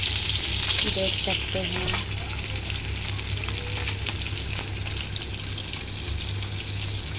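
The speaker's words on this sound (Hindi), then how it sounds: "अभी हम बना रहे हैं गोटा मछली फ्राई" Gota fish fries in hot oil with a continuous close sizzle and stirring clatter, and someone speaks briefly near the start.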